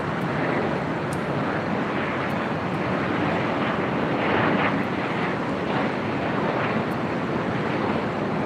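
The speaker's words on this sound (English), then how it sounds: "Next arrival here on the north side is United Airlines Flight 1398 coming in from Phoenix," A United Airlines Boeing 737-800 on arrival at LAX, its jet engines producing a broad, continuous roar with wind rush that stays loud and steady throughout.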